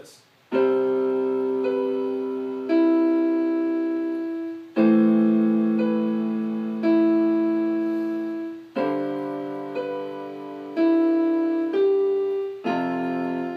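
A piano plays the chord progression of a worship song, four sustained chords struck in slow succession with the ringing decaying between them, close and clear with no voice.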